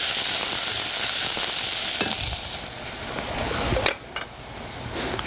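Tomatoes and onions fry in a pan with a loud, dense sizzle that gradually softens, with a few sharp clinks and scrapes of a utensil against the pan near the end, close up and with no talking.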